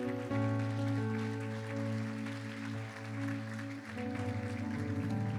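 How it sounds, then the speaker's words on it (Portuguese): A church congregation applauds during a Portuguese-language evening worship service, with a steady wash of clapping beneath sustained organ or keyboard chords and music that carries throughout. "Fique em pé, vamos aplaudir o Senhor bem fortemente"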